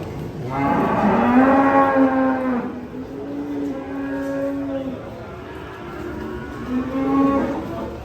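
A small, dwarf cow moos loudly and close by while cattle are unloaded from a truck, giving several long, low drawn-out calls with brief pauses between them.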